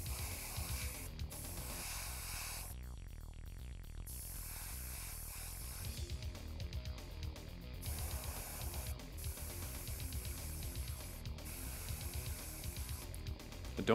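An aerosol spray can hisses in repeated bursts over a miniature BattleTech chemical toxic base, steady close-up spraying with brief pauses and faint can-rattle clicks between passes.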